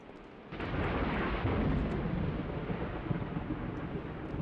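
Thunder in an Exit 8 style video game, a low rolling rumble that swells suddenly and then holds as a steady dense roar, loud and continuous with no talk.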